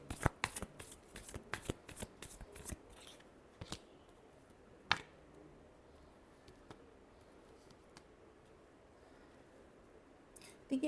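A deck of tarot cards is shuffled by hand in a quick run of crisp riffling flicks, then softer scattered taps and one sharp snap, followed by a quiet pause and a final burst of card noise.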